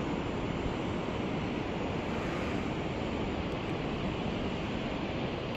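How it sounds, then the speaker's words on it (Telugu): A river flows far below in a valley near Mawryngkhang village, Cherrapunji, Meghalaya, giving a steady, even rushing wash. It stays constant and moderately faint throughout, with some wind mixed in and no voices. "కింద రివర్ ప్రవహిస్తుంది చూసారు కదా"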